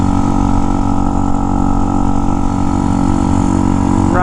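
An old Honda motorcycle, a pieced-together mutt bike, idles steadily up close. Its low, even engine drone stays loud and unbroken throughout, with no talking over it.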